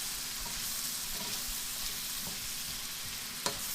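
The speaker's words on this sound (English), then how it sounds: "I'll continue stirring for a little bit." Red lentil pasta sauce seasoned with black pepper is stirred in a pan, giving a soft, steady sizzle with a few faint scrapes of the spoon and one sharper knock near the end.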